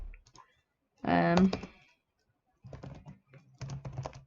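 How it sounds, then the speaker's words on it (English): A computer keyboard gets a quick burst of typing as a password is entered, close and clicky, followed by sparser key taps under someone talking. "So we're actually going to type this down."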